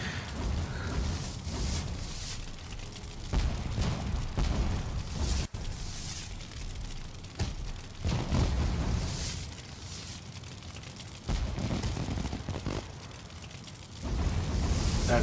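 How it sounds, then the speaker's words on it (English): Fireworks bursting overhead in the video game Valheim, a run of deep booms and crackling bursts repeating every few seconds, loud and continuous across the sky. "They give you fireworks?"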